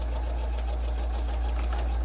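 A sewing machine back-stitches a seam on a feedsack tote, running steadily from start to finish with a deep motor hum and quick, even needle pulsing, close and loud with no talking.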